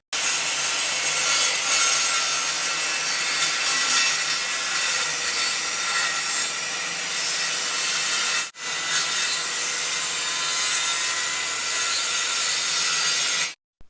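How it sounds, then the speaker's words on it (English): A circular saw rips through hardwood plywood in a long, loud, steady cutting whine, broken by a brief dip midway before continuing to the end of the cut, close and alone. "Just strip off the side to get a finer quality cut with the circular saw."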